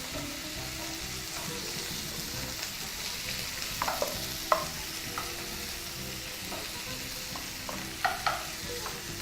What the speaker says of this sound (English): Right, so we're just gonna let that sear on one side.